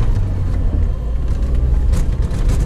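A Lada Niva 4x4 drives through snow, its engine giving a close, continuous low rumble with crunching, scraping noise from the tyres and chassis and no talk.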